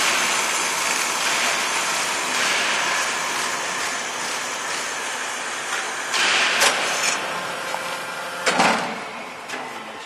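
Cutting machine blade whirring steadily as it is sped up and slowed down, a continuous mechanical hum with occasional louder bursts near the end, no talking.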